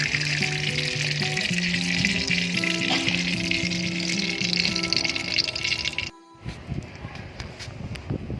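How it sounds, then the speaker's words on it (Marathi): Three ladles of oil are poured into a kadhai heating on a wood-fired chulha, making a steady, close rushing hiss for about six seconds, then a short break followed by quieter crackling. "चला आता आपण तीन पल्या तेल टाकून घेऊया"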